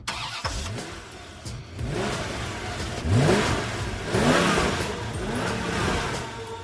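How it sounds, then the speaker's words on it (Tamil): A car engine starts and revs up in a few rising surges over a steady idle, close by and loud, with no talk over it. "இந்த வண்டி எடு."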